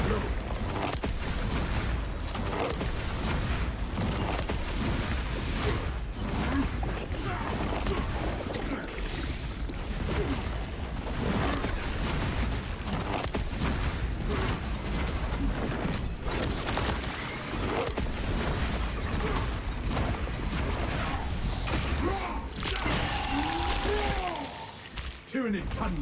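Explosions and gunfire from the Space Marine 2 video game burst repeatedly through dense battle noise, booming and crackling close and loud, with a voice speaking over the combat.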